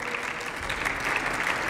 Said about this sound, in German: Beifall für Beantwortung von parlamentarischen Anfragen